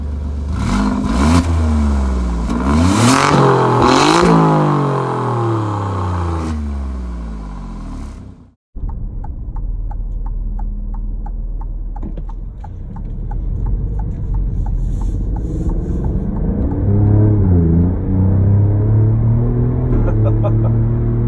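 A 2018 Alfa Romeo Giulia Quadrifoglio accelerating hard on a dry, straight road: a loud engine note sweeping upward through the revs, a brief break, then a steady, throaty drone as the car pulls on.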